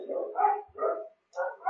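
A dog barks in three or four close, medium-loud bursts with short pauses between them, and no speech.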